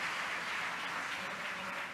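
An audience at a plenary session of an international conference applauds, a brief, dense patter of many hands clapping together at a steady level.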